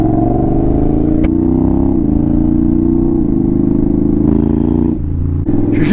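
Loud, steady drone of a Honda X-ADV scooter engine riding through Paris at night. It holds at near-constant revs, rises slightly, then dips briefly near the end before a short burst.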